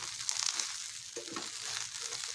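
Okra fries in a pan with a faint, continuous sizzle and light crackle, plus a brief scrape of stirring partway through and no voices.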